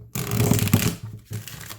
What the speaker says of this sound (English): let's go ahead and give them a shuffle